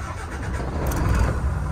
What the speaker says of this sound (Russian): тачка заводится с ключа